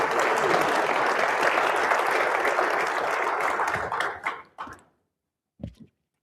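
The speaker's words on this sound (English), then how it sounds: "Please give them a round of applause for being here today." An audience applauds guests taking the stage at a public forum, dense clapping for about four seconds that fades out, followed by a brief isolated thump.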